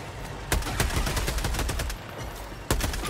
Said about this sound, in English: We're going to use our strafing run.